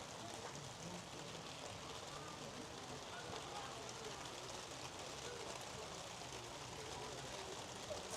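Steady rain falls throughout outdoors at a bowls match, a dense continuous hiss with no break, fairly even in loudness and with no clear voices above it.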